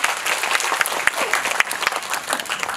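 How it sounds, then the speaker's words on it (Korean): Audience applause at a special guest screening event at a cinema, a dense, steady wash of many hands clapping with a few sharper claps standing out, loud and close, with no talk over it. "박수를 들을까요?"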